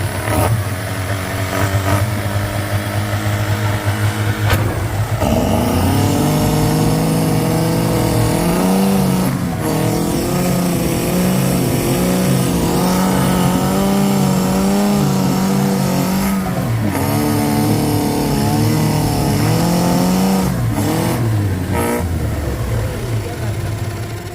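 A petrol vehicle engine starts and is revved repeatedly, its pitch rising and falling in waves for over twenty seconds, close and loud, with people talking throughout.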